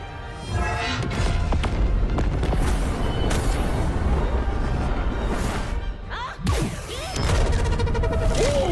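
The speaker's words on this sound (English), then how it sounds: "the explosion itself, like the blast being fired, that one sounds good" A loud, sustained anime explosion effect roars in a dense, rumbling blast that fills the whole stretch, briefly dipping before surging again with crackling debris.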